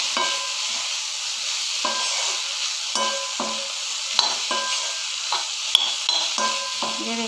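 Cauliflower sabzi sizzles steadily in a pan while a spoon stirs it in repeated scraping strokes, close and continuous, with no talking.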